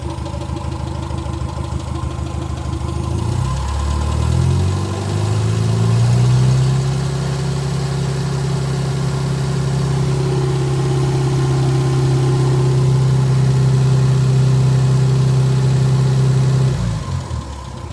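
A Morris Minor ute engine, neglected for over 20 years, cranks over and catches, then settles into a steady, loud idle with a slight rise in revs before cutting off near the end.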